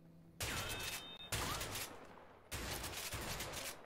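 Bursts of rapid automatic gunfire come from the video game A Way Out, arriving as dense, loud volleys with a short break in the middle, with no talking over them.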